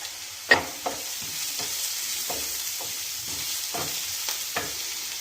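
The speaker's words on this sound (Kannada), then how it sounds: "ಈರುಳ್ಳಿನ ಚೆನ್ನಾಗಿ ಫ್ರೈ ಮಾಡೋಣ" Onions frying lightly in a pan for a bitter gourd fry, with a low steady sizzle under a series of distinct spatula scrapes and taps, one sharper knock near the start, close and quiet.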